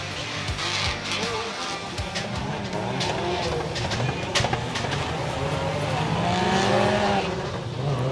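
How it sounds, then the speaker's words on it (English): Toyota Supra drift cars at a Formula Drift Japan event at Suzuka Twin Circuit doing donuts, with continuous engine roar and tire squeal sustained across the whole stretch, loud and near. "We got some donuts going on."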